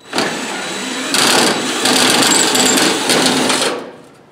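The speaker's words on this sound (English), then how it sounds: "It's nice when you get a good push on these screws, they drill a lot quicker." A power drill whirs steadily, driving self-drilling screws into sheet metal on a Studebaker M5 pickup fender repair panel, rising in pitch and strain, then winds down after a few seconds.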